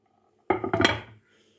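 A single short clattering thud as a cake-tin parfait mold is flipped upside down onto a serving tray, a close knock followed by a brief rattle lasting about half a second, then quiet.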